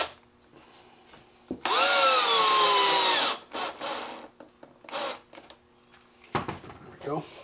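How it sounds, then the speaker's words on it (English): A power drill driving screws up from the underside into a wooden rocking horse, one loud whirring burst with pitch bends as the screw bites, then shorter drill spurts and handling noise, with a voice speaking between them. "I'm going to screw it from the underside"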